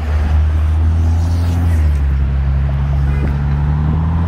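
Cars drive across the Brooklyn Bridge in New York, a steady close roar of engines and tires with a low droning hum and shifting pitch as vehicles pass. No one speaks.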